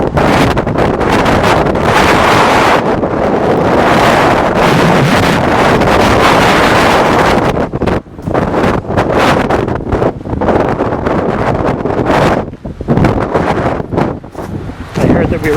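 Strong wind gusts buffet the microphone in loud, rumbling roars, easing and surging in uneven bursts.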